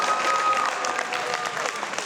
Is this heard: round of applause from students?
yes